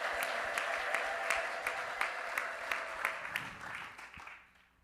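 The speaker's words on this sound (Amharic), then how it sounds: "እልልታና ጭብጨባ" A church congregation at a pastor's installation ceremony claps in a steady, rhythmic beat while high ululation rings over it. The sound fades away at the end.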